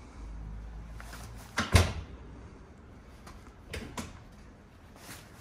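A Monolit interior door swung open and shut, giving a couple of soft clunks and latch knocks in a quiet room, the firmest thud near the middle.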